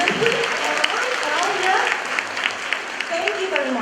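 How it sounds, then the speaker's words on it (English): Audience applause at a forum for English language teaching professionals, steady dense clapping through the whole span with voices talking over it. "we could give another round of applause"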